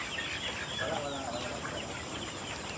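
Dekalb Brown chickens raised for free range cluck softly and intermittently, fairly close, over steady background hiss.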